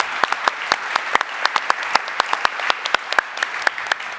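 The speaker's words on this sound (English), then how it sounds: "Big applause to Matthias." An audience at a live factory-of-the-future conference applauds, a dense burst of many hands clapping at a steady moderate level for a few seconds without any speech.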